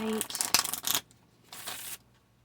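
Two quick bursts of riffling cards, a dense crisp flutter lasting about a second each, close by, separated by a brief pause with no voices.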